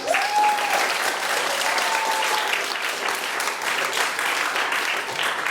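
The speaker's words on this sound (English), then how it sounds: "I think you should give yourself another big round of applause." A school assembly audience of Year 6 pupils and staff applauds in a steady, dense round of clapping that fills the room at even loudness, with a faint tonal voice-like sound near the start.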